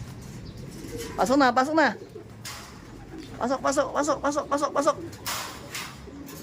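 Racing pigeons coo in two bursts of throaty, warbling calls, close and clear. Someone speaks briefly between and over the calls.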